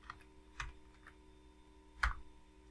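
Two or three sparse, light keypresses on a computer keyboard while entering a command in drafting software, separated by quiet pauses over a low steady hum.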